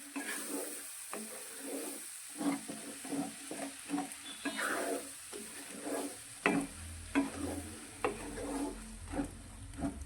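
Tomato puree stirred into sizzling masala in a pan, a soft continuous fry under repeated rhythmic scraping strokes of a spoon, close and moderately quiet.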